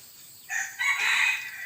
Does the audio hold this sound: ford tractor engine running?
no